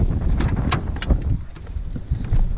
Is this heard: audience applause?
no